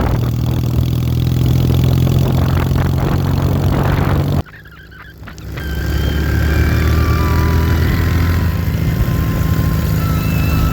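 Bobber motorcycle engine running loud and close, cutting out briefly, then building back up as the bike rides off.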